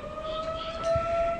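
A town fire whistle siren sounds in the background, a steady sustained wail held at an even pitch, fairly distant and moderately loud throughout.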